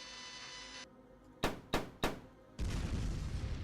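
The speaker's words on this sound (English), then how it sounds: "explosion, death, destruction." A sound effect in a sci-fi tabletop game session fires three sharp, loud blasts in quick succession after a steady electronic tone, followed by a sustained roaring, crackling explosion rumble.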